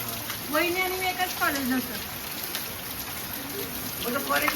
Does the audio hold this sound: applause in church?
no